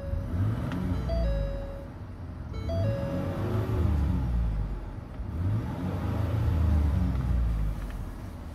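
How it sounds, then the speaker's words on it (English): A Ford Expedition EL Limited 4WD engine revs up and settles twice, a steady mid-range rumble rising and falling in two swells, heard close with no talking. "Do a rev test."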